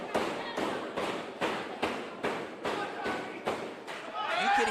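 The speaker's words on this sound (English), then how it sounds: "You could hear him banging the boards" A wrestler banging on the wooden ring boards during a wrestling show, a steady run of about ten loud, evenly spaced thuds, with voices rising near the end.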